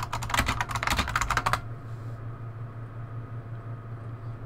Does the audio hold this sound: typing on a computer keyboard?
yes